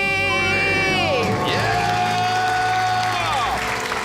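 A studio crowd cheers and whoops loudly after a debt-free scream on a radio call-in show, with voices shouting over the steady roar of celebration.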